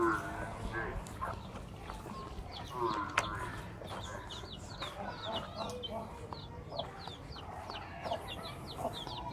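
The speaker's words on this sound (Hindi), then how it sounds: "ये मुर्गी को कुछ बच्चे निकले हुए हैं।" A hen with newly hatched chicks on a cattle farm: rapid, high chick peeps run in a steady series while the hen clucks low and nearby, with faint farm background and occasional voices.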